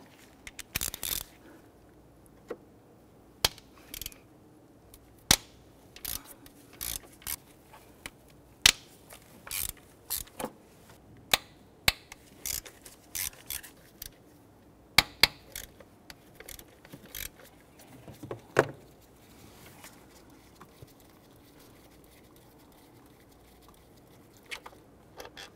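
Hand tools work on the 4.0L V6 engine of a Nissan Frontier, loosening bolts without power. Sharp metallic ratchet clicks and clanks come in scattered bursts with quiet gaps between them. The sounds are close and isolated, and no one speaks.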